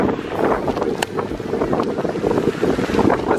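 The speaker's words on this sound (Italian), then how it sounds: "Si è alzato un vento incredibile." Strong wind buffets the microphone at the seaside in Sardinia, a steady loud roar with gusty rumble and faint choppy water beneath, no voices.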